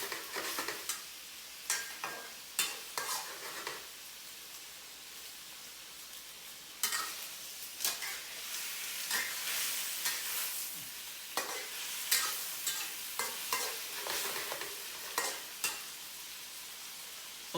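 Bean curd sautéing with onion and tomato in a pan over moderate heat, a steady soft sizzle broken by repeated scraping stirs, close and fairly quiet, with no talking.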